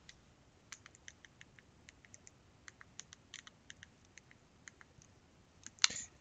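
Soft, faint keyboard typing as a search is entered into a web browser, a sparse series of light key clicks at uneven spacing, ending with a slightly louder tap.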